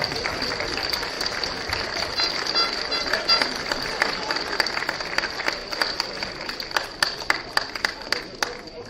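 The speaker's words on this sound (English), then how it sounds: "round of applause for the match officials" A crowd applauds the match officials at a school boys' premiership final, steady clapping that continues throughout and grows into sharper, more distinct claps toward the end.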